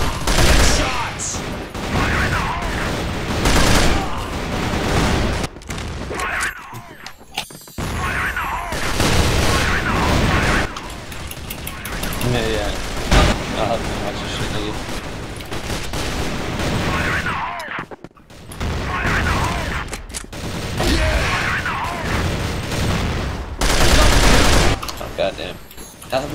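Gunfire from a Beretta AR-70 rifle in a first-person shooter game, with repeated bursts and bangs running loud through the whole stretch while players talk over it.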